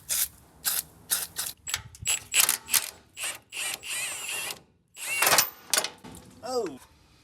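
Ratchet wrench clicking in quick bursts while bolts come off the front end of an old Ford F100 pickup during teardown, close and fairly loud, with short pauses between runs and a few metallic clinks.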